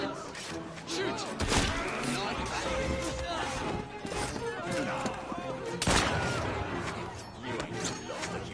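Sporadic gunshots and crashing impacts in an Assassin's Creed Syndicate street fight, with two sharp loud blasts standing out amid a busy clatter, voices shouting over the action.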